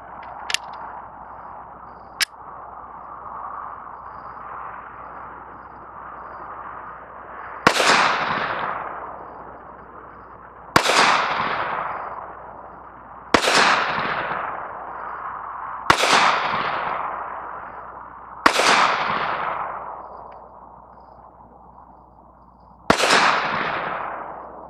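Smith & Wesson Shield 2.0 pistol firing cheap 115 grain PMC full metal jacket rounds: six sharp, loud shots at a slow, uneven pace, each cracking out and fading with a short echo over a low steady background.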